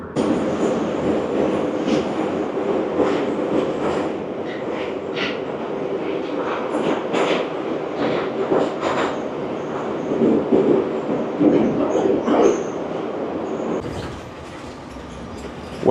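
Yekaterinburg metro train riding between stations, a steady loud rumble of wheels and car noise with rattles, clicks and brief squeals throughout, dropping slightly near the end as it slows.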